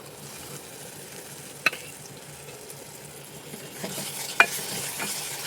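Yogurt stirred into a frying masala for egg curry gives a low, steady sizzle under soft stirring, with two sharp spoon clinks against the pot; no talking.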